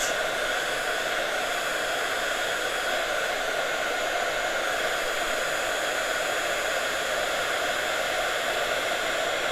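A heat gun blows steadily as it melts embossing powder on cardstock for a moving butterfly card. The hiss stays loud and unbroken, close by, with no talking.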